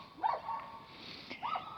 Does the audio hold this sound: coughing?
no